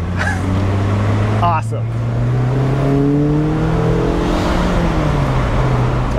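A 2020 Mazda Miata roadster with a manual transmission, driven hard into a left turn with the top down, its engine note rising and falling steadily under loud wind noise while a person speaks briefly.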